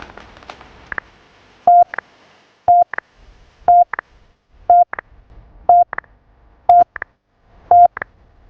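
A telephone dials an ambulance in an emergency: a steady run of about eight evenly spaced keypad tones, each a short clear beep about a second apart, loud and close with no talking.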